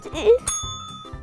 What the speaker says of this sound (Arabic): حطي الجرس يا حبيبة، حطي الجرس.